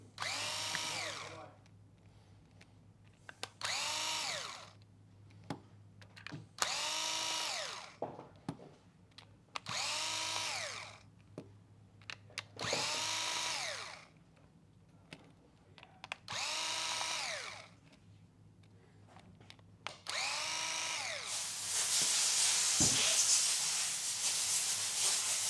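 A power screwdriver backs screws out of the bottom of a detachable clipper. It whirs in about eight short, evenly spaced bursts, each rising and falling in pitch, close and clear against a faint hum.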